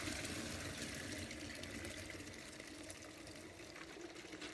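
Soft continuous swishing and sloshing of water as soda ash is stirred into a pot of water for dyeing basket material, an even low liquid churn with no voices.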